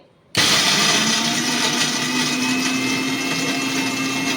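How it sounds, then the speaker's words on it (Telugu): Mixer grinder (mixie) grinding spices for a flat bean curry, switching on abruptly and then running as a loud, steady whirring drone, close and continuous, with no voices. "ఇక మిక్సీ పట్టుకుందామండి"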